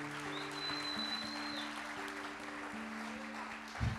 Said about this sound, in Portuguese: Se você pode, aplaude o nome dele e glorifica esse nome maravilhoso